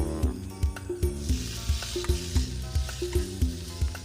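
Shallots and garlic fry in oil in a pan, a bright, steady sizzle cut by a regular series of close scraping and tapping strokes from stirring, with no one speaking.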